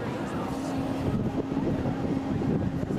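Steady outdoor wind rumbling and buffeting against the microphone near a roller coaster track, a constant low roar throughout with no clear speech.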